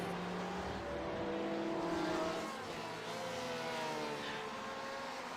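A Ferrari GT race car at Barcelona in the Aussie Mixed & Fixed GT Series, its engine droning and climbing through gears with steady pitch sweeps, moderately loud under a wash of track noise.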